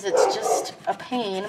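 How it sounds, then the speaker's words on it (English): A dog barks and yips in short bursts mixed with a person talking over it, indoors during a Cricut craft session. "And I apologize for my dog barking."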